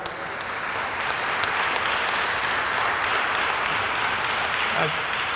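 Applause from an audience at a junior police graduation ceremony for the police department's officers, a steady, dense wash of clapping that holds evenly for several seconds at moderate distance.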